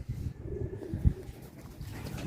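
Pigeons coo softly in a loft among racing birds, low murmuring calls with one louder coo near the middle, set against a muffled background and with no talking.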